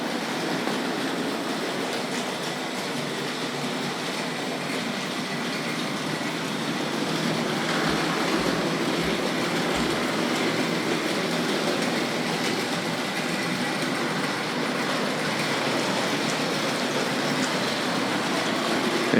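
A Hornby model train runs along its track at a collectors' association show in the railway museum hall at Locomotion, Shildon, giving a steady, continuous rolling rumble under the busy, echoing ambience of the venue, with a few faint low thumps midway.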